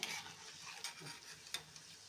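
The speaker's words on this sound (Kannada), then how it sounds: "ಇದು ಹಾಗೆ ಫ್ರೈ ಮಾಡ್ಕೊಂಡು ಬರ್ತೀನಿ" Paneer cubes frying in hot oil in a pan, with a soft steady sizzle and a few sharp clinks of a spoon stirring them, close and alone.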